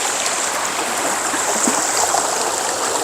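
A strong stream rushes steadily at a forest resort in Nakhon Nayok, Thailand, with a loud, close, unbroken hiss of fast-flowing water and no pauses or talk.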